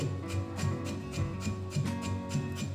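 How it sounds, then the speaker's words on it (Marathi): Roasted sesame seeds being pounded with a pestle in a traditional mortar for tilgul, steady rhythmic thuds about every quarter second, close and moderately loud. "आता बत्त्याने अशी बारीक करून घेऊ।"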